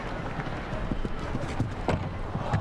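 Horse hooves pounding the ground during a show jumping round at Spruce Meadows, a quick irregular series of muffled thuds over steady crowd and arena noise.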